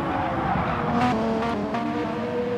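A Pagani road car's powerful engine revs hard around the Catalunya circuit in a racing video game, a steady loud drone with shifting engine tones and occasional tire squeal.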